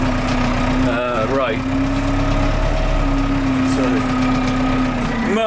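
An old, underpowered tractor engine drones steadily while hauling a heavily loaded muck spreader, a loud continuous rumble with a hum above it, and someone speaks briefly over it.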